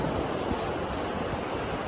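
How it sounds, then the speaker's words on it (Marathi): A steady roar of big sea surf breaking on Devbagh beach in Konkan, with wind rushing across the microphone. "पाठीमागा समुद्र भयानक लाटा आहे"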